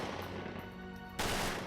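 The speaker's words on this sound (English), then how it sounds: "We are all pinned down by automatic gunfire." Automatic weapons with armor-piercing rounds fire in a Hollywood shootout, a rapid stream of shots that bursts suddenly louder near the end after a steadier, more distant rattle.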